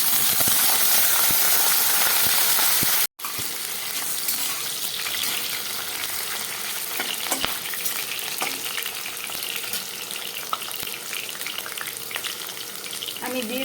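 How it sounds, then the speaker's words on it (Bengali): Potatoes fry in oil in a kadai with a strong, steady sizzle close by, briefly interrupted by a sharp cut early on and then resuming with faint stirring clinks throughout; no voices. "এই তেলের মধ্যে আমি কিছুটা আলু ভেজে নেব"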